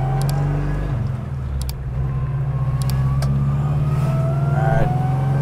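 A 1961 Pontiac Tempest with a 155-horsepower four-cylinder engine and transaxle pulls steadily while driving, a loud continuous mid-pitched drone that rises as it accelerates, with faint clicks and no talk.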